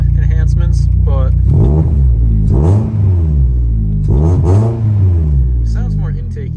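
A BMW E36 with an M42 engine and a new intake idles with a deep, steady rumble and is revved up several times in rising and falling sweeps, loud and close, while a person talks over it.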